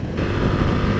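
Engine of a 2025 Ducati Multistrada V2 motorcycle on a test ride, a steady loud raucous drone held at high revs with wind rush, continuous and close throughout.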